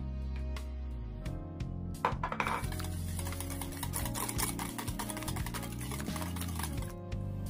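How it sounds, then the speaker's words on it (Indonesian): Eggs are beaten with seasoning powder in a bowl, the whisk clicking rapidly and rhythmically against the sides, close and moderately quiet over a steady low background hum, with no one talking. "Kita kocok lepas dulu telurnya, lalu setelah itu kita masukkan bumbu-bumbu bubuknya ya."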